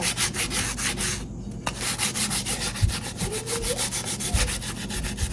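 Sandpaper rubbing back and forth along a rough walnut wooden spoon handle, a steady run of close, regular scratchy strokes with no voices.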